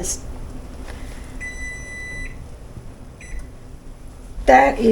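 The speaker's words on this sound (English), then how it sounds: "There's our timer, and I just took it out of the oven." A kitchen oven timer beeps in two short bursts of steady electronic tones while Christmas Eve prime rib and Yorkshire pudding come out of the oven, followed by a brief clatter near the end.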